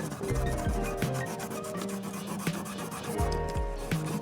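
Fast back-and-forth rubbing as the frets of an Aria Pro II RS Wild Cat guitar are polished, a close, steady scratchy scrub in quick strokes with no talk.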